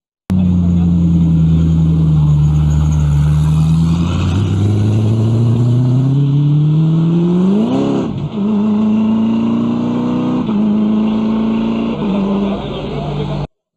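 An old Ford GT's engine drones loudly, climbs in pitch to a sharp peak with a quick rev blip, then settles into a steadier higher tone with a few smaller revs before cutting off.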